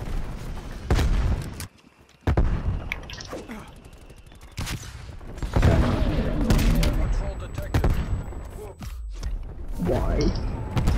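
Hostile aircraft strafing run in Call of Duty: Black Ops Cold War, with loud bursts of gunfire and heavy impacts. The bursts come in several close waves, broken by a brief drop near the start, and a voice is heard faintly.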